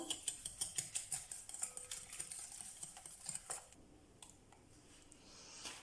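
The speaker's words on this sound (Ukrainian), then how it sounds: "До яєць додаємо цукор, ванільний цукор, перемішуємо все вінчиком." Eggs being whisked by hand with sugar and vanilla sugar, the whisk making fast, steady clicking against the bowl for several seconds before it thins out and stops. No voices.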